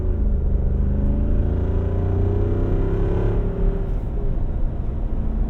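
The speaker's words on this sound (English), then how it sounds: "the raw experience of just how loud this exhaust is" A deep, loud V8 exhaust on a 2024 Jeep Wrangler Rubicon 392 Final Edition roars steadily with a heavy low rumble and thrumming pulses, continuous throughout, no voices.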